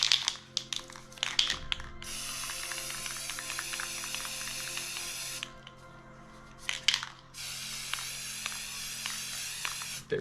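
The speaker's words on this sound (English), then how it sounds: "So I'm going to bring this out and spray it over." Two long hissing bursts of an aerosol spray can, close and steady, separated by a pause with light tapping and rattling.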